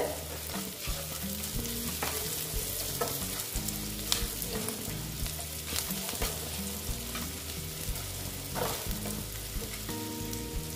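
Salted onions fry in a pan, a continuous near sizzle broken by repeated rhythmic stirring and scraping strokes, with no voices over it.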